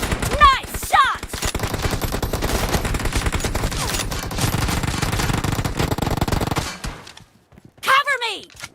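Rapid automatic gunfire in the shooter game PUBG Mobile rattles in a dense, loud burst lasting several seconds, with short voice lines before and after.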